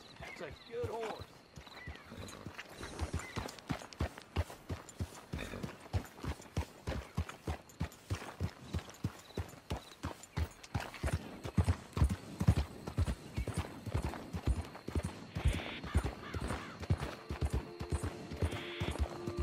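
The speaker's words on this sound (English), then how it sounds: "That's a good horse." Steady clip-clop of horse hooves walking at a regular rhythm, close by, with a brief whinny near the start and occasional faint voices, from the video game Red Dead Redemption 2.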